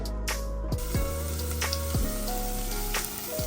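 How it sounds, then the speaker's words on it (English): Onions fry in olive oil with a close, continuous crackling sizzle, sharp pops and spits scattered through it. "and to fry it up. A bit of olive oil and onions."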